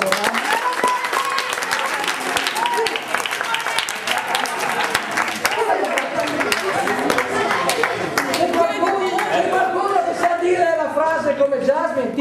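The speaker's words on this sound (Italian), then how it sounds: "Vai Jasmine, fatele un applauso." An audience gives Jasmine sustained, loud applause, the dense clapping continuing throughout with cheers, and a voice speaking over it toward the end.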